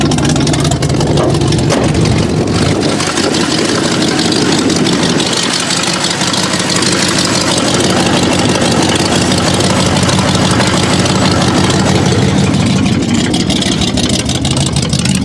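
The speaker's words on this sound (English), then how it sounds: "Park's fine, we'll rev it in park." A Ford Granada engine revved in park, a loud, rough, continuous mechanical roar with a rumbling low end that swells and settles while the car sits stationary, heard close up.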